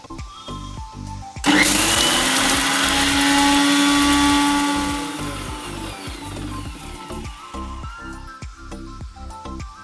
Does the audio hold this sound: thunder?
no